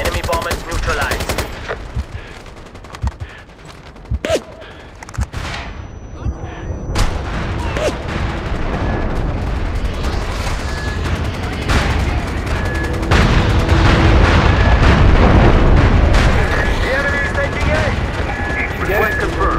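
Heavy artillery strikes from a fire mission in the MAG PlayStation 3 shooter, rolling booms mixed with machine-gun and rifle fire across a loud, continuous battlefield, with radio voices talking over the din.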